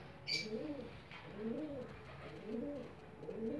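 Blewuk Tukson pigeon cooing in a nest while feeding its young, a close, low, repeated rolling coo in steady rhythmic phrases with a brief higher chirp near the start.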